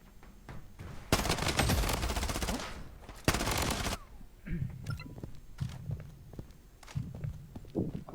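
P90 submachine gun fire in a video game, two sustained automatic bursts loud and close, followed by footsteps and scattered game sounds.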